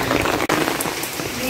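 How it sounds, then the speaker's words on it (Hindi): Heavy rain pours down in a dense, loud, unbroken hiss, drumming steadily on nearby surfaces. "बारिश बहुत तेज है"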